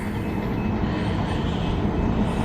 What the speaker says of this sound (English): We got a train coming, folks.